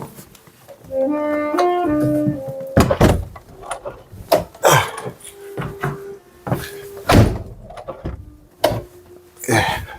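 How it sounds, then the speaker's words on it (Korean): An interior room door is pushed shut with a few solid thunks and knocks, close and fairly loud, while music practice from a neighboring room sounds in the background. "문을 잠깐 닫고 다시 진행을 할게요"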